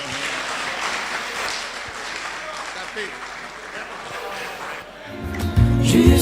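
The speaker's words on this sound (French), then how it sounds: "Oh, sous vos acclamations, merci." Audience at a francophone African Christian media forum applauding after approving a text by vote, dense clapping across the room that fades before music and singing rise at the end.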